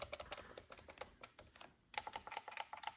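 Keys on a soft-touch Meetion computer keyboard are pressed in a rapid run of quiet clicks, close and fairly faint, with no voice over them.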